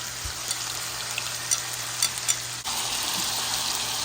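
Beef short rib juices sizzle steadily in a hot skillet, a continuous hiss that grows louder and denser partway through, with a few faint clinks and stirs over it and no talking.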